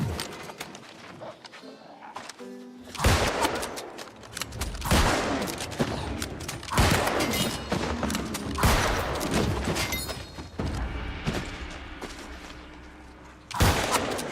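Musket fire in the video game New World: Aeternum, several loud sharp shots spaced a few seconds apart, each followed by a rumbling tail, with footsteps and game effects in between.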